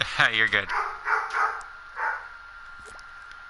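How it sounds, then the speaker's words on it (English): A dog barks in a few quick, sharp bursts indoors, fairly close, followed by a short spoken line and quieter scattered noises. "That's my dog barking at my brother."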